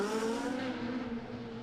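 A rally car powers out of the pit lane at Donington Park, its engine note rising in a sustained, close, loud drone with strong tonal harmonics and no talk over it.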